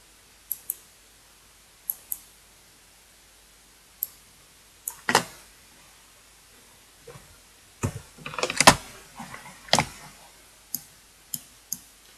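Sharp isolated clicks from a computer keyboard or mouse, spaced irregularly with single taps and a brief denser flurry of clatter in the middle, fairly close and alone with no talk.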